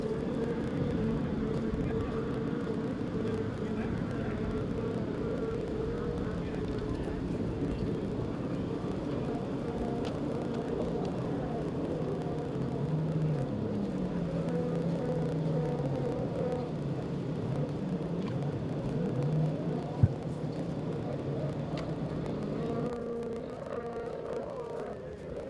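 Vintage personal watercraft, X2 Open, 550, 650 and 750 classes, roaring off the start line at a Windsor water race, a dense sustained engine drone with a rising and falling whine, heard under an announcer's commentary.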